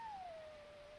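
A single drawn-out whining howl from a dog in Dragon Age Origins, sliding slowly downward in pitch and fading, heard alone against quiet game ambience.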